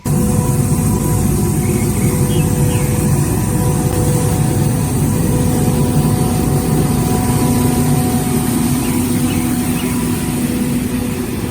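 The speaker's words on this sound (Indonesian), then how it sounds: "Road sweeper." A road sweeper runs continuously nearby, a steady loud engine drone layered with constant broadband brushing hiss and faint high whine, unchanging across the whole stretch.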